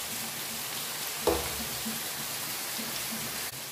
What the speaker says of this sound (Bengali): এক এক করে ফিঙ্গারগুলো ভেজে নেব